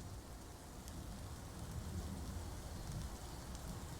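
Rainfall in the game Dwarf Fortress, a dense, even wash of hiss that stays level throughout, with no talking over it.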